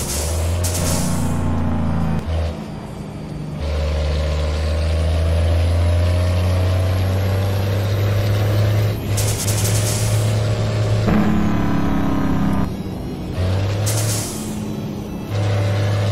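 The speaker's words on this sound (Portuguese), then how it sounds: "Segura o freio motor, hein?" A Mercedes-Benz 2546 truck pulling a curtainside trailer in Euro Truck Simulator 2 rumbles loudly with its engine brake, a low droning roar broken by several brief air-brake hisses and pauses, with no talking.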